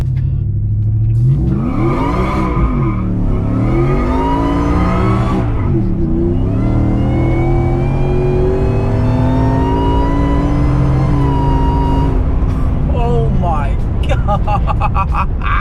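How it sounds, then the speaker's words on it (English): The engine of a supercharged Ford F-150 with a 10-speed transmission revs loudly and climbs in pitch as it holds the gear near the top of the RPM range, then shifts and keeps pulling hard, all heard from close up. "that 10 speed like really holds the gear at the very top of the RPM range"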